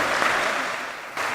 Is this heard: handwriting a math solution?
no